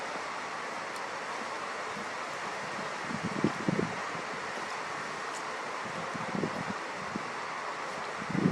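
Wind buffets a 7-inch monitor set up outdoors at night for a blood moon eclipse, a steady broadband rush with a few louder gusts and rustles partway through and near the end.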